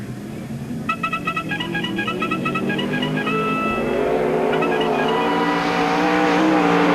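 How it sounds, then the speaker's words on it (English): Race cars roar down the front straightaway at Knox County Speedway during a modified feature. The engines build into a loud, continuous, rising din that runs under a fading musical chime. "cheer for your favorite car and driver as they pass down the front straightaway of our Knox County Speedway"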